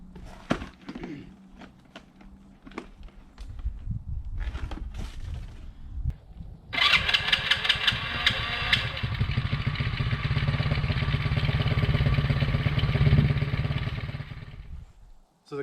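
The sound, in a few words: Tao Tao 110cc ATV engine starting and idling, cold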